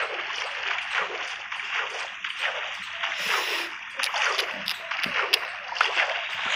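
Continuous splashing and sloshing footsteps as a character walks through water in Minecraft, a steady close watery churn with small irregular splashes and no talk.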